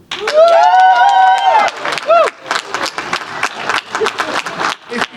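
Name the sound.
audience applause and cheering at a craft beer debate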